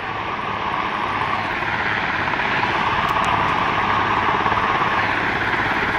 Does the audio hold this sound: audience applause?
no